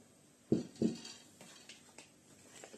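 Two quick close taps of an egg being cracked against a bowl of chicken mince, followed by faint soft clinks and rustling in a quiet kitchen.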